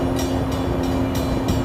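A train rolling past a Chicago river drawbridge on the South Branch, a loud continuous rumble with a steady tonal hum and periodic rhythmic clacks from the wheels.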